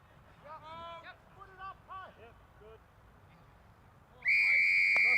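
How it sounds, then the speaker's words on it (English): A referee's whistle blows one sharp, loud, sustained blast to start a Tasmanian rugby union match, Taroona against Launceston, after a commentator speaks over faint background field noise. "And there's the whistle."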